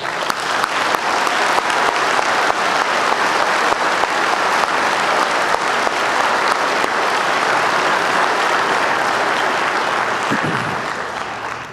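A school awards audience applauds its honored recipients with steady, sustained clapping that fills the room at an even loudness for the whole stretch, alone with no talk over it.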